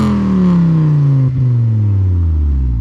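Lowered Ford Mondeo 2.5T with two small race cans on the exhaust, its engine revving loudly and close by, pitch climbing steadily across the whole burst with a brief dip midway, no talking.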